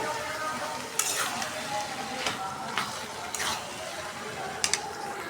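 Chickpeas sizzle and fry with spices in a hot pan, a steady close crackling hiss broken by a few sharp stirring clicks and scrapes, with no voice over it.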